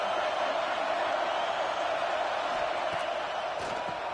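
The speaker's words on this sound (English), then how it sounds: "And here comes the noise. This crowd is trying to inspire this defense to make a big red zone stop." A football stadium crowd roars steadily and loudly throughout, a dense wash of cheering and noise raised to urge the home defense near its own goal line, with a couple of brief whoops rising above it.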